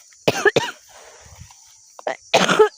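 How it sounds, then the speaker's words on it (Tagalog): Two sharp coughs close to the mic, then a short pause with faint rustling, followed by two more harsh coughs. "Inuubo ako mga."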